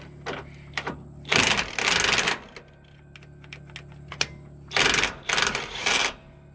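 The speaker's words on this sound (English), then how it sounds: "I'm not going to be able to use the impact necessarily on all of it because of the tight spot, but we'll give her a shot here." Bursts of an impact wrench hammering on 11/16 nuts in a tight spot, loud rattling rips of about a second each, two pairs separated by lighter clicks and clanks of tools and parts.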